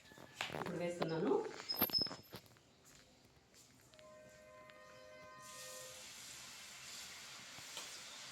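Karapusa dough lowered into hot oil: a voice talks first over light clatter, then a steady, fairly quiet frying sizzle starts and continues to the end.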